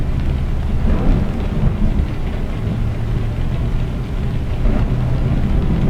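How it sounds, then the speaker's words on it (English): An intense thunderstorm on an Iceland south coast drive in Euro Truck Simulator 2 with Promods, loud rolling thunder rumbling over steady heavy rain for the whole stretch, no talking. "This is probably the most intense storm I've seen in ETS2 ever."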